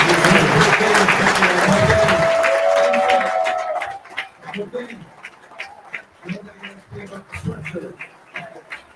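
Audience applause at an evening event with two guests, a dense, loud burst of clapping for the first few seconds that fades out, followed by someone talking.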